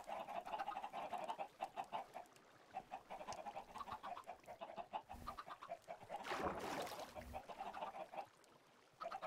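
Several chickens in the video game Minecraft cluck in quick, uneven bursts, soft and steady over a low background, with a brief louder scuffle in the middle.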